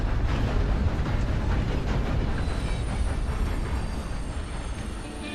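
A train rolls into a station in the Red Dead Online video game with a heavy, steady rumble that eases off slightly toward the end, and no one speaks.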